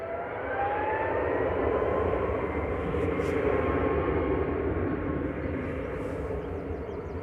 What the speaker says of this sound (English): Ryanair's EI Hev departing there to Gran Canaria with flight 2583, a max 8200